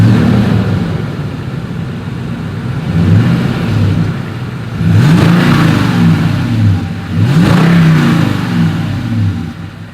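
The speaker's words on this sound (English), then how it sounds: "As always, here is that exhaust clip." A 2020 Toyota Sequoia with a single exhaust outlet idles loudly up close, then revs twice in quick surges, its deep engine note rising and falling back to idle between them.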